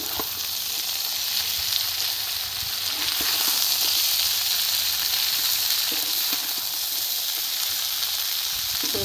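Broccoli added to a pan of frying potatoes and onions, a loud, steady sizzle and hiss that fills the whole stretch close up, with faint stirring scrapes and no talk.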